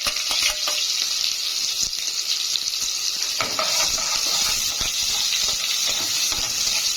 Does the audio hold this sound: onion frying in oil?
yes